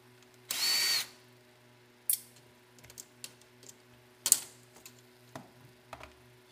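A power drill whirs once briefly and loudly to back out screws from old electronics, then a second short burst follows, with scattered small clicks and clinks of screws being handled in a quiet room.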